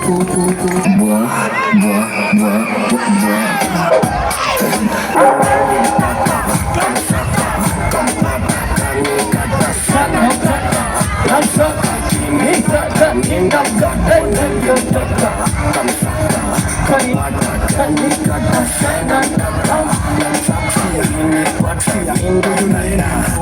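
A large crowd at an awards event cheers and shouts continuously, loud and close, with excited voices blending into a steady roar.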